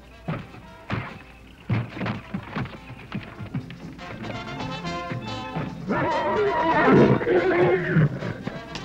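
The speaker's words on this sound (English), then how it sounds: "How about that horse?" A horse neighs and whinnies loudly several times in an outdoor Western television scene, the calls building into a long, strong whinny near the end, with thuds and movement between them and no talk.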